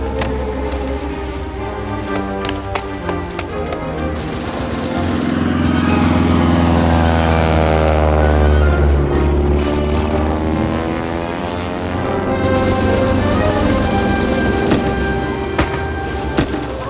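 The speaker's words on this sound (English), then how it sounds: "German plane over the field!" A German propeller plane drones low over a field, its loud buzzing engine swelling and fading in pitch as it passes overhead, close and continuous with no talking.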